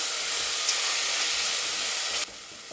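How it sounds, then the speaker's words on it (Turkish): Sautéing for a Turkish tomato yogurt soup with noodles: a steady, close hiss and sizzle from the pan, without talk, dropping quieter near the end. "Şöyle tekrar kavurmaya devam ediyorum."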